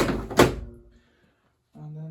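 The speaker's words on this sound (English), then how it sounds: "the top of the drawer can go back in because it's handy" A plastic drawer top on a Miele washing machine is pushed back into place with a single brief thunk, followed by a soft scrape and quiet, then a low hum as talk resumes.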